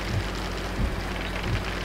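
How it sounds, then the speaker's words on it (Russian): Steady rain in the truck-driving game 18 Wheels of Steel Across America, a continuous broadband hiss with soft low thumps underneath, heard alone without talk. "Дождь."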